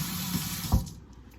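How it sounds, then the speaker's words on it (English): Hands and a pan rinsed under a running kitchen tap during breakfast cooking, a steady close hiss of flowing water with one brief splash near the middle before it tapers off. "Rinse that off."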